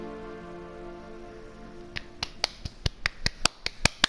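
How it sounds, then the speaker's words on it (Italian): A character claps in the Assassin's Creed Unity video game, a string of about eleven sharp, evenly spaced claps that start after a quiet lead-in over a faint background hum. "Questo sono io che applaudo, tranquillo."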